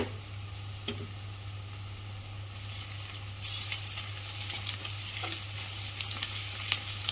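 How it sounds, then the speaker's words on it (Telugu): Chopped spring onions fry in oil with a spoonful of ginger-garlic paste for an egg fry, a steady low sizzle that grows busier with scattered crackles and stirring taps, close by and free of talk, under a constant low hum. "ఇది ఆయిల్లో మంచిగా ఫ్రై అయితే బాగుంటుంది."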